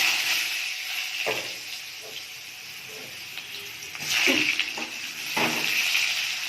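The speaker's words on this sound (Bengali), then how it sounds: "দিয়ে দিচ্ছি, আলুটা ভেজে নেব।" Potato pieces frying in white cooking oil in a kadai, a steady close hiss of sizzling with a few brief clatters and louder bursts of frying partway through.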